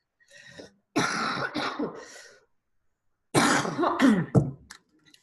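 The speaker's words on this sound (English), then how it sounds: "I'm going to cough, so I'm going to take off my headphones." Two bursts of harsh coughing and throat clearing separated by a few seconds of silence, close and fairly loud, with no talking.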